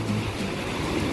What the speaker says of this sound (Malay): ombak yang memukul beting pasir ini di kiri dan kanan